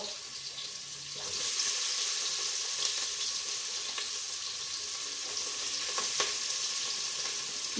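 Chopped onions and green chillies sizzle in a pan as the base for a homemade bread pizza. A soft start swells to a steady frying crackle near the mic, with a few sharp clinks of a spoon against the pan.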